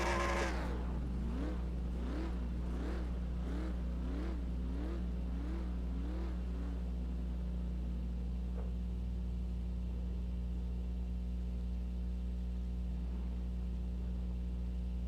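A racing truck engine in a sim racing video game revs through a series of rising and falling pulls, then settles into a steady drone, with no talk over it.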